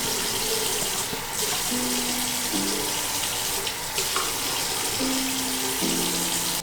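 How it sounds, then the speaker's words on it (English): Water runs steadily from a tap for rinsing hair dye out, a constant close broadband hiss with faint low tonal hums weaving underneath. "so I'm supposed to add some water and then rinse thoroughly."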